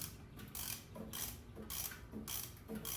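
A ratchet wrench with a 5/8 socket clicks in short bursts as it loosens the transmission drain plug on a 2025 Harley-Davidson Low Rider ST, up close and alone, four or five quick runs of ratcheting clicks.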